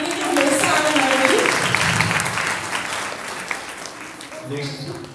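Enthusiastic audience applause at a spiritual gathering, a dense steady wash of clapping that slowly thins toward the end, with voices heard over it.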